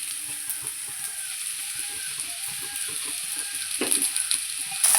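Brinjal pieces fry in a pan for a vangibath dish, giving a steady close sizzle with faint crackles throughout, and a few louder scraping stirs near the end.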